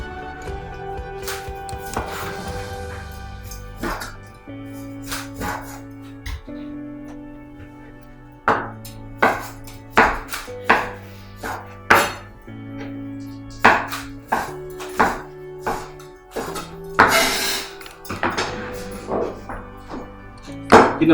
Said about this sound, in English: first we're gonna cut the bacon